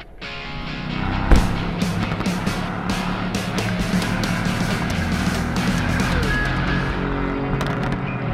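A 2018 Mercedes-AMG GT C Roadster drives with a steady engine and road roar throughout, a sharp thump near the start, and wind noise heard from inside the open car.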